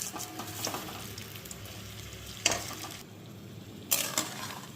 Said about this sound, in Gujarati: બટેટાને એકદમ ઘીમાં શેકવાના છે